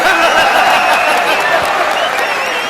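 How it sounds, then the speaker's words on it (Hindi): Loud crowd clapping from an audience at a humorous political talk, continuous and dense, with a few chuckles and voices mixed in. "सब लोग ताली बजाओ भाई।"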